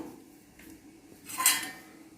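A metal bowl clinks and scrapes briefly while being greased with oil for idli, one short, fairly close metallic rattle standing out against a quiet kitchen background.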